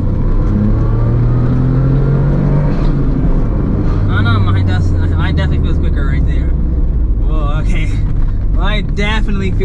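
Suzuki Cappuccino small car accelerating in second gear, a steady loud engine drone with rising tone heard from inside the cabin, with someone talking over it for much of the clip.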